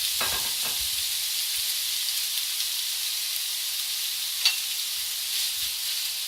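Italian sausage sizzling in a little olive oil in a pan over medium heat, a steady, fairly loud hiss throughout with a few brief stirring scrapes near the start and one louder pop midway.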